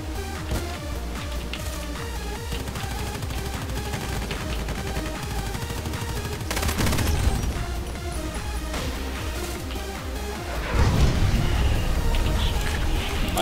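Gunfire in the online shooter game Contract Wars, with dense, continuous crackling shots and bursts over game ambience, growing louder in two heavier volleys near the end.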